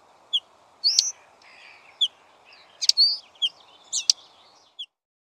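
Linnet song, a short run of quick, bright twittering chirps and trills, close and clear over a faint low hum.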